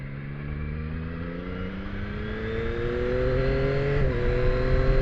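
A 2025 Yamaha R9 motorcycle engine revs as the throttle is twisted, its pitch climbing smoothly and steadily, then briefly dipping and rising again, loud and close.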